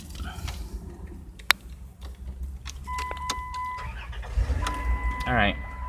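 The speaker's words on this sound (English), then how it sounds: "Vehicle has now started." A van's engine cranks and starts, building to a steady low running rumble while electronic beeps and chimes sound over it.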